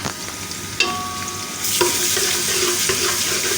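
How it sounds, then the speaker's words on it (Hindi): Onions and ginger garlic paste fry in hot oil for a dhaba-style aloo gobi, a loud, close sizzle that jumps in intensity partway through as stirring adds scraping and a brief metallic ring. "अदरक लहसुन के पेस्ट को थोड़ा सा फ्राई करेंगे 2 से 4 मिनट के लिए।"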